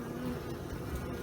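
Honey bees buzzing steadily at a hive during a spring inspection, a dense, continuous close drone of many wings, soft but unbroken throughout.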